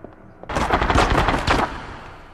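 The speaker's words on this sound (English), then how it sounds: "As a hail of gunfire breaks out." A hail of gunfire in the video game Rogue Ops, a sudden loud burst of rapid automatic shots that rattles on for about a second before cutting off.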